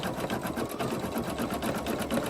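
An embroidery machine runs a tack down stitch for an appliqué tee, its needle hammering out a fast, steady rhythmic chatter at close range for the whole stretch.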